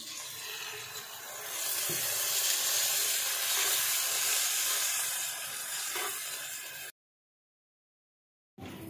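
A cup of water poured into a hot pan of spicy vegetable noodles sets off a loud, steady hissing sizzle that swells, holds, then eases before cutting to silence, with no talk.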